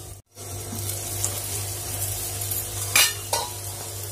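Masala fries in a pan for Odisha-style paneer bhurji, a steady close sizzle and hum with two short bursts of stirring noise toward the end.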